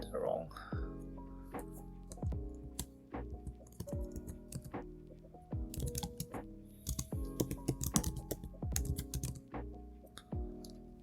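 Computer keyboard typing in bursts of quick, close clicks with short pauses, while a person talks over the keystrokes throughout.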